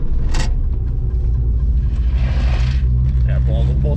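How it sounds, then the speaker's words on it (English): A VW VR5 engine in a Savoy car rumbles loudly and steadily at close range on its first drive, with a brief higher rev near the start and a few faint sounds in the background. "The car sounds angry though."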